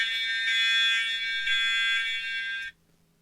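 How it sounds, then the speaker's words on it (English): A loud electronic alarm beeps in a steady high-pitched tone for a few seconds, then cuts off abruptly into near silence. "that is the end of my timer."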